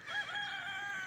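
A neighbour's rooster crows in one long, sustained call, clear and fairly close, with no voices over it.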